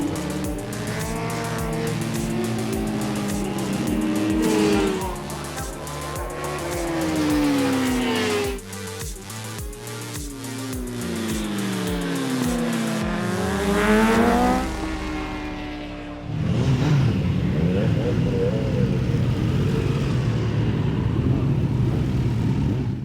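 Racing vehicles at a Kawasaki race on track: engines scream through rising and falling revs as they pass and shift gears, loud and close, followed by a rougher, steadier roar near the end.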